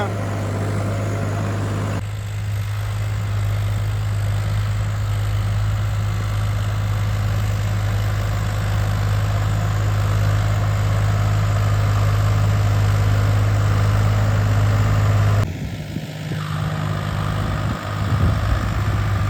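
A Swaraj 855 4x4 tractor works a rain-soaked, wet field, its engine droning loud and close with a deep, steady rumble that shifts in tone near the end.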